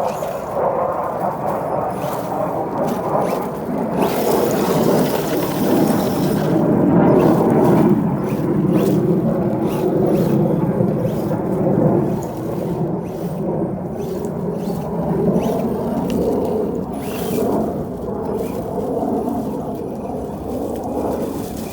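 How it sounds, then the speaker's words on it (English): Air Force military jets roaring overhead, a loud, sustained rumble that swells and fades over about twenty seconds, heard outdoors from a distance. "They've been flying their jets around all day today."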